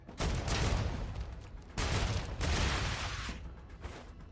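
Standalone defense turrets in the video game Star Rupture fire in two loud, dense volleys of rapid shots, each lasting over a second, close and overlapping, with a brief gap between bursts.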